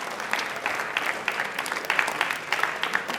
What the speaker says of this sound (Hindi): लेकिन मैं तालियां इनके लिए जोरदार हो जाए।